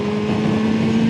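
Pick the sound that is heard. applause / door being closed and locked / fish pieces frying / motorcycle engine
motorcycle engine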